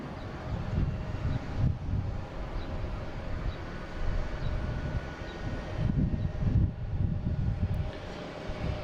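Airliner on final approach into Boston Logan over Braintree, a steady low engine rumble with wind buffeting, moderately distant and continuous throughout.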